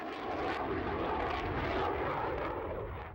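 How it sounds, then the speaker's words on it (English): F-18 fighter jet roaring past at an air show, a loud broad jet rush that swells and then fades, with no voices over it. "the F-18 fighter jet demonstrated raw power to the delight of the huge crowd"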